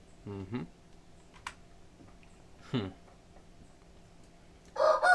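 A rooster crows twice nearby in short rising calls, with a clucking burst at the end, heard over a quiet indoor room with faint tapping.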